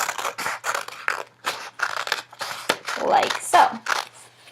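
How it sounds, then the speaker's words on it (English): Scissors snip through two layers of folded craft fabric while cutting out a butterfly shape. The cuts come as a quick run of crisp, close snips and scrapes, with a voice speaking briefly over them. "they took their scissors and they cut starting at the crease again and cutting through both layers of the fabric"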